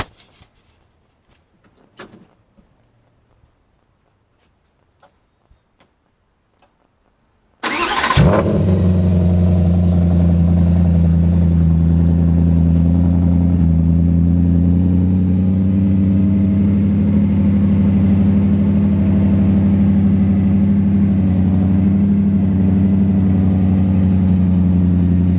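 A Nissan GT-R starts after about seven seconds of near silence, its engine catching with a sharp burst, then settling into a loud, steady idle with a deep rumbling drone held close to the microphone.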